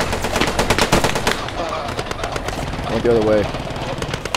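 Gunfire in the World War II shooter game Post Scriptum, loud bursts of rapid automatic fire up close with a brief engine-like drone, someone speaking over the shooting.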